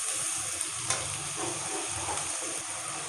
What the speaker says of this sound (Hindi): इसको इस वक्त तक हमने फ्राई करना है जो अदरक लहसुन का कच्चापन है वो ख़त्म हो जाए